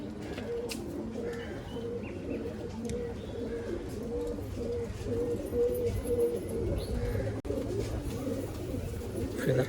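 Madrasi pigeons in a pigeon loft coo in soft, repeated low murmurs, several birds overlapping close by, with faint background chatter and a few sharp clicks.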